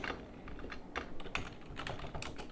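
Fingers typing a command on a computer keyboard, a quick irregular run of close, crisp key clicks over faint room hiss.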